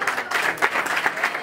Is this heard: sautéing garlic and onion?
no